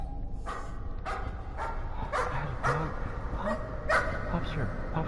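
A dog in the horror game Layers of Fear gives a series of short barks and yips, about eight sharp bursts spaced unevenly over a low ambient drone, fairly close.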